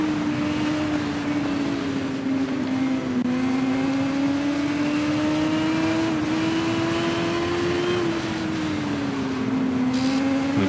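A BMW superbike engine in TT Isle of Man 2 holds a loud, sustained high-revving drone, its pitch climbing gradually and dipping briefly at gear changes, with no voices.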